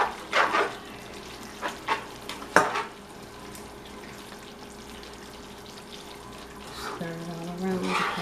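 Shrimp stirred and fried in a pan make a soft, steady sizzle, with a few clattering stirs near the start and later a faint voice-like tone under the frying, all fairly quiet and close.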